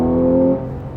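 A 2013 Porsche 911 Carrera S engine on its standard exhaust holds a strong, steady rev for a moment and then drops away, loud and close, with no talking.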